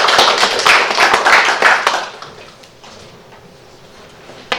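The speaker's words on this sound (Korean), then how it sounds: "자, 박수도 좀 환영해 주시기 바랍니다." Audience applause greets a presenter at a Gyeonggi Provincial Assembly research briefing, dense clapping for about two seconds and then tapering into scattered claps and room quiet.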